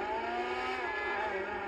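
A stolen car's engine runs in GTA 5, a steady, close, tonal hum with layered harmonics held at an even level throughout, with no talking over it.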